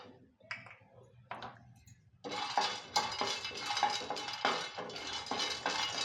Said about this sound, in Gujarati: એ જ કડાઈમાં બે ચમચી જેટલા સિંગદાણા શેકશું